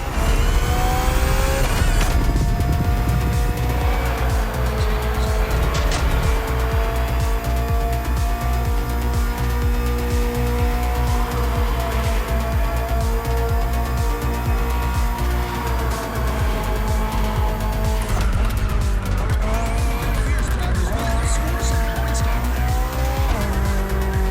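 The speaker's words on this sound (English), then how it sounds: "The BMW M Hybrid V8. What a beast." A 2023 BMW M Hybrid V8 endurance race car roars steadily in The Crew Motorfest video game, loud continuous engine drone with tire squeals and skids, shifting pitch as it accelerates.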